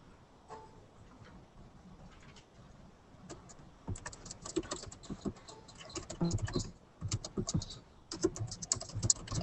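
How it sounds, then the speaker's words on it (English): Fast keyboard typing clatters in bursts during a Civil 3D engineering webinar, quiet and sparse at first, then dense rapid key taps growing louder in the second half, with faint voices in the background. "I can hear the typer."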